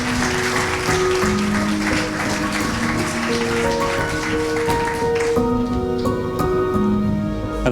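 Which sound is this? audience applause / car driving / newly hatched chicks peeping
audience applause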